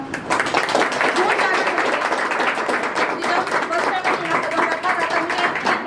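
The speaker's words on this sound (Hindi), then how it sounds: "उनके लिए जोरदार तालियां।" Loud, dense audience clapping at an award function for a blind welfare association, continuous and close throughout the short stretch.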